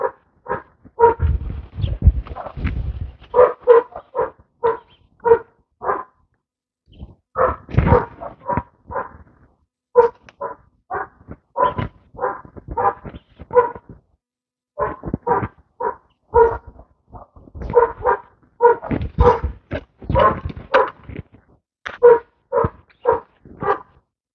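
Dogs bark repeatedly outdoors near a garden where tomatoes and cayenne and jalapeno peppers are being planted, loud sharp barks in irregular bursts and clusters with short pauses, sometimes two dogs overlapping.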